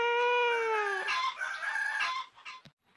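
A cartoon chicken squawks while being chased, starting with one long, drawn-out crowing cry and then breaking into a few quick, loud clucks close up before cutting off abruptly.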